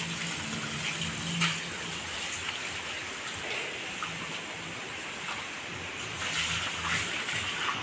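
Running water pumped by a motor in a village setting, a steady splashing gush like water pouring onto a surface, with a low motor hum beneath, fairly loud and continuous with no talk.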